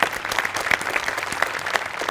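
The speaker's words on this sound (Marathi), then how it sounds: "त्याच्यासाठी एकदा टाळ्या." Audience applause from a Marathi comedy stage show, a steady close burst of clapping with no talk, lasting about two seconds.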